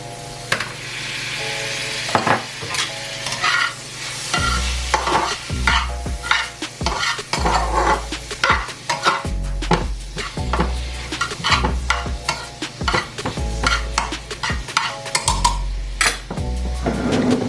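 Diced garlic fries in a pan for a zucchini lasagna with a continuous close sizzle, broken up by frequent clattering scrapes and knocks of a utensil stirring against the pan, alongside a low steady hum; no one speaks.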